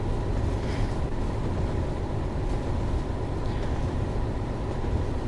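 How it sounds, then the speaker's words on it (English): A BR Class 31 diesel locomotive in Train Sim World 4 runs with a steady, dense low engine drone and rumble, constant and loud throughout with no talking. "It's Class 31, which I'm operating today."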